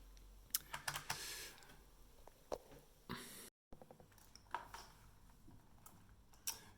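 Quiet, irregular clicking of a repaired keyboard's keys being pressed, individual taps and short bursts with small pauses, close by and alone.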